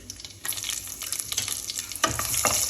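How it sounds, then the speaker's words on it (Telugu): Whole spices and green chillies, including cloves, cinnamon, cardamom and crushed pepper, sizzle and crackle in hot oil in a pan, with stirring scrapes and bursts of spitting that grow louder toward the end. "వీటిని ఫ్రై చేసుకుందాం. మంచి స్మెల్ వచ్చే వరకు వేయించుకోవాలి."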